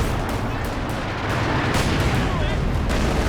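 Battle sounds from Company of Heroes 2, a Panzer IV tank advancing and firing amid continuous gunfire and artillery, form a dense, loud, steady wash of rumbling blasts and crackling shots with no clear pauses.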